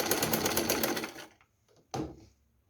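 A sewing machine seams a knitted sweater neckband with one short, close, whirring burst lasting about a second, then stops, followed by a small mechanical knock.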